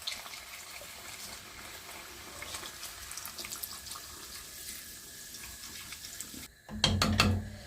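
Cider is poured from a bottle over pork pieces seasoned with salt and pepper in a pot for a Breton-style sauté. It sounds like a steady, close liquid stream that ends in a short, louder gush and splash.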